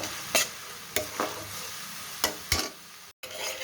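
Spice paste of chili, coriander and cumin powders being stirred and fried in a pan for an eggplant curry, with soft sizzling broken by several scraping stirs at irregular intervals and a brief pause near the end.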